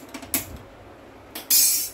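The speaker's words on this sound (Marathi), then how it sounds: "गॅसवरती आपण कढई ठेवत आहोत" Metal kadhai set down on a gas stove: a couple of light clanks and a sharp metallic knock, then a brief louder scrape and clatter near the end, close and without speech.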